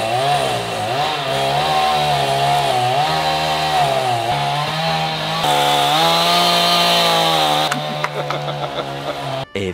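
A chainsaw running outside a door drones loudly and continuously, its pitch rising and falling as it revs, then cuts into choppier bursts near the end.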